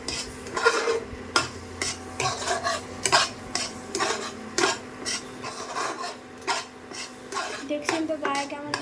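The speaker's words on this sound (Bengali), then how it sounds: "দেখছেন তো গায়ে কেমন লেগে যাচ্ছে, সেই জন্য অনবরত এটাকে নাড়তে হবে" A spoon scrapes continuously around a pan of thickening ripe mango yogurt mixture as it cooks down, producing rhythmic rasping strokes and clinks against the metal over a low background hum.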